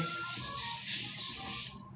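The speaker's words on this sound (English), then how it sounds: "now we're gonna put them on a pan with a little bit of spray" A close, hissing burst of cooking spray onto a pan runs for nearly two seconds, then cuts off abruptly, leaving quiet room tone.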